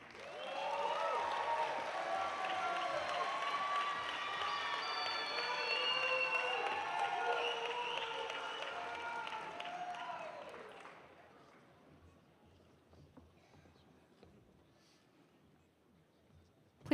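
Audience applause and cheering at a dental medicine graduation convocation, a dense sustained crowd clapping for about eleven seconds before fading to quiet room noise.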